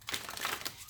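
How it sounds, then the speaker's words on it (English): Deck of playing cards riffled in a single quick shuffle during a tarot card reading, a close, crisp papery flutter lasting about a second with no talking over it. "One more shuffle."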